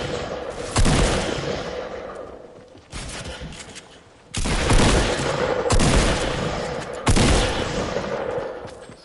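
Bursts of heavy automatic gunfire in the battle-royale game Fortnite, loud and close, coming in several long sustained volleys separated by brief pauses.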